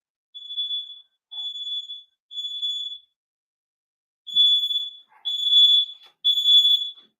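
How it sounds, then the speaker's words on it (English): An upstairs smoke detector shrills in six piercing, evenly spaced beeps, loud and close, with near silence between the pulses. "That's my upstairs smoke detector."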